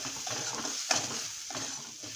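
Potato and pea bhaji with turmeric being stirred in a pan, a soft scraping and shuffling with a faint sizzle underneath and one sharper clink of the utensil near the middle, close by with no talking.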